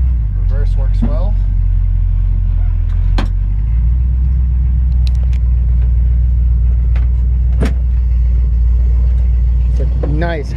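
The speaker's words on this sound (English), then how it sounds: "Nice, healthy sounding engine." A 1954 Chevy 3100 pickup engine runs with a continuous deep, even rumble that shifts to a slightly fuller tone partway through, with someone speaking briefly at the start and end.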